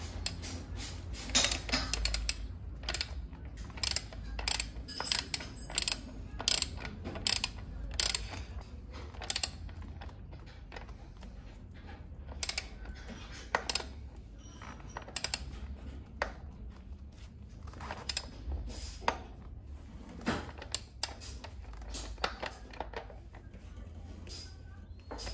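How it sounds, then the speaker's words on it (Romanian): The central nut on a KTM motorcycle's rear wheel is tightened with a ratcheting tool. A long series of close, rapid clicks comes in irregular bursts, with occasional metallic clanks and some brief speech. "acum strângem piulița centrală"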